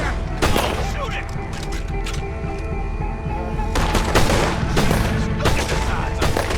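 Gunfire in the video game Red Dead Redemption 2 as shots are fired at a large creature: loud, close bursts of rapid shots and booms, coming in clusters with short gaps, and voices talking between them.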